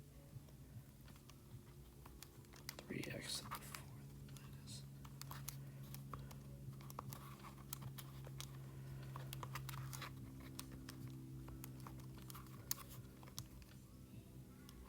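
Soft clicking key presses on a graphing calculator tap out in an irregular quick patter, faint and close, with a person talking quietly in places.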